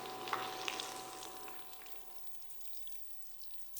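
A breaded chicken breast fries in hot oil with a quiet, steady sizzle and crackle, faint and close, gradually thinning out with scattered pops and no talking.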